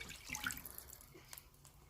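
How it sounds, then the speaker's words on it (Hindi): Milk is poured into a pan of warm ghee while making khoya, giving a soft splashing, running-liquid sound that lasts under two seconds, close and fairly quiet. "घी हमारा गर्म हो चुका है और अब हम इसमें मिल्क ऐड करेंगे"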